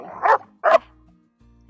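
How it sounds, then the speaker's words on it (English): Two sharp dog barks sound up close, separated by a short pause, with a faint low growl between them while the dogs scuffle. "And my dogs are fighting."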